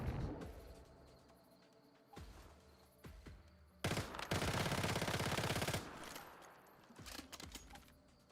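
Submachine gun fire in the video game Once Human, with scattered single shots and thumps leading to a dense, loud two-second burst of rapid automatic fire, then more sporadic shots.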